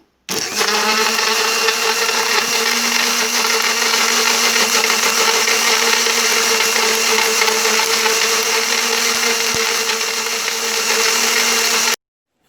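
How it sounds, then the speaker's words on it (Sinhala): A kitchen blender whirs steadily, loud and close, blending soursop juice without ice cream, a continuous motor whine lasting about eleven seconds with no talk. "අපි දැන් ජූස් එක බ්ලෙන්ඩ් කරගමු."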